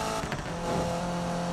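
A Subaru BRZ races in Need for Speed 2015, with a steady, loud engine drone holding high revs through a short burst of racing.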